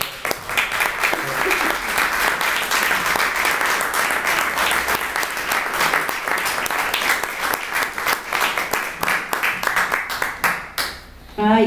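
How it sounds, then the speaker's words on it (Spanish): Sustained audience applause at a book presentation, dense steady clapping filling the room for about eleven seconds before tapering off near the end. "el fuerte aplauso de todos para ustedes"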